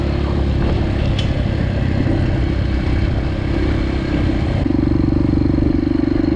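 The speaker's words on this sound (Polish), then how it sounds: "Pojedziemy trochę szybciej, żeby się motor ostudził trochę." A motorcycle ridden at speed along a rural track toward cherry trees gives a steady, close engine drone that holds throughout and grows slightly louder and fuller toward the end, with no talking.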